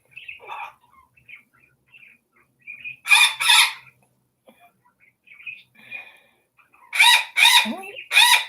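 A rooster crows loudly and close several times, with softer clucks and short calls between the crows and long silent gaps.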